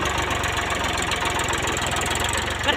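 Tractor engine pulling a cultivator, a loud close diesel rumble with a rapid even knocking beat, continuous throughout and without speech.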